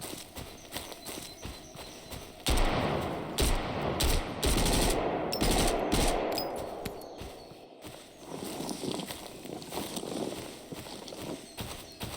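Gunfire in the video game Road to Vostok comes as a burst of rapid shots with clattering rhythmic impacts and scuffing steps, loud and busy, followed by quieter rattling movement.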